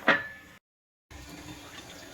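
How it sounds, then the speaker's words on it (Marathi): Water poured onto sugar to make syrup gives a brief, close splash, then cuts to silence before a soft, running trickle returns. "एक वाटी साखरला पण एक वाटी पाणी टाकते"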